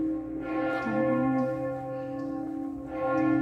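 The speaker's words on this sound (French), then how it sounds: "Et on a le son des cloches." Church bells of Saint-Pierre Cathedral in Montpellier ring out at noon with long, sustained resonant tones, several strokes overlapping and humming evenly in the open air.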